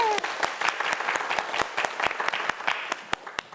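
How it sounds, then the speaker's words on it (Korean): Studio audience applause on a Korean TV quiz show, a steady burst of clapping from a crowd that carries through the whole stretch with sharp individual claps standing out. "여러분 박수 한번 보내주세요"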